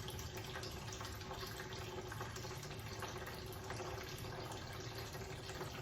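Water drains steadily from a container in a physics demonstration, a continuous even rush and trickle with no breaks or voices.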